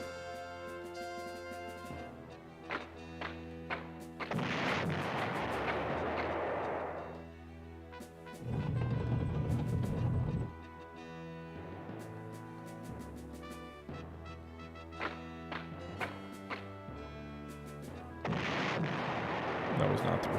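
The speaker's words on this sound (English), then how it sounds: "All right, counter battery fire." Counter-battery artillery fire in the retro strategy game Panzer General for PlayStation 1, heard as several heavy booming shell bursts spaced apart over a steady music-like backdrop, with someone speaking between them.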